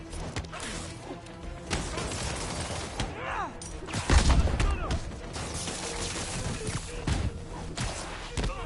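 Gunfire and crashing impacts fill a combat scene in the Marvel's Spider-Man video game, with scattered shots and thuds under ongoing noisy action.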